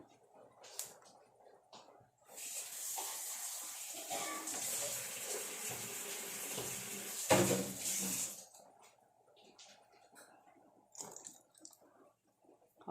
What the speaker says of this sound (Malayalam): ഇച്ചിരി വെള്ളം കൂടെ ഒഴിക്കാം